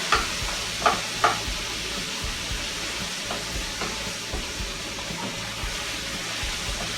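Onions sizzle and crackle in a hot pan, a steady frying hiss with a few sharp pops and stirring clatters near the start.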